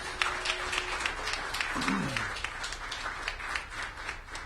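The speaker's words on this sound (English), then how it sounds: "Let's give them a round of applause as well." A room fills with steady applause at a mayoral public announcement event, many hands clapping at a moderate distance, with a faint voice briefly heard underneath.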